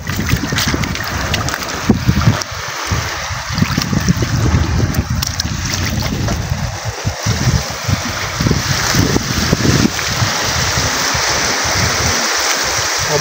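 Strong amihan monsoon wind rushes and buffets the microphone without pause, with a faint wash of water underneath. No one speaks.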